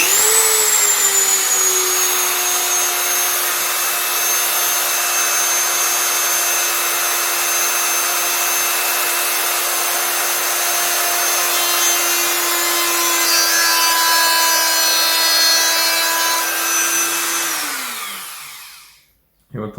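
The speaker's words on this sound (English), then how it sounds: "just drill straight down through there" A power drill bores straight down into an arrow nock, a steady close whining motor drone with high harmonics that holds level for about seventeen seconds, then winds down and stops.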